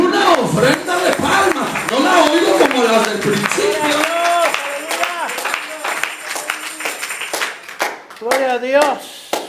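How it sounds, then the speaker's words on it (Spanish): A church congregation claps hands together as an offering of praise during a Spanish-language service, a dense, continuous patter of many palms mixed with voices speaking and singing over it. "vamos a darle a Él una ofrenda de palmas."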